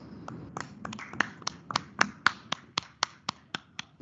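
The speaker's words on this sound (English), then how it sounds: "Let us give them all of them a big round of applause." A few hands clap at an award ceremony for the Indian Institute of Tropical Meteorology's foundation day, sparse, crisp, separate claps in an uneven rhythm that grow a bit more regular, fairly quiet against a low room murmur.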